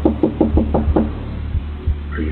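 Six quick knocks on a door in a steady burst, followed by a couple of heavier, slower thumps, fairly close with no talking.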